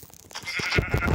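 Sheep bleating in Minecraft, a single short, wavering bleat that grows louder toward the end, close and clear with no talk.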